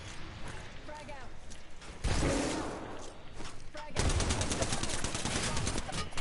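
Rapid automatic gunfire from a video game comes in sustained bursts, loud and close, with a long rattling stretch toward the end, while a player talks over it.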